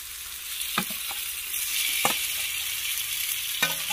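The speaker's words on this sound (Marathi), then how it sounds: "आता भरीत टाकायचं आपल्याला भरीत." Mashed brinjal bharit goes into a hot pan and fries with a steady hiss, punctuated by a few sharp clacks of a spoon stirring against the pan, close and moderately loud.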